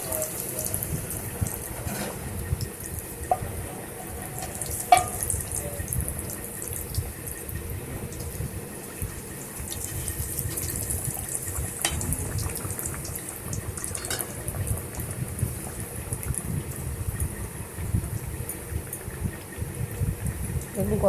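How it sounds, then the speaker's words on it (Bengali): Khaja dough pieces fry in oil on medium heat with a steady, even hiss of bubbling that runs unbroken for about twenty seconds, with a few faint clinks. "গজাগুলো ভাজতে হবে মিডিয়াম আঁচে"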